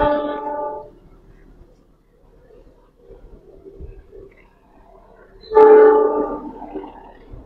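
Two loud train horn blasts, one at the start and one late, with a low rumble between them, as a freight tanker train carrying cement passes a station.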